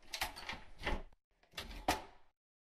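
The living room door opens in the video game SeaBed, two short bursts of sliding and clattering door noise separated by a brief pause, heard close and alone.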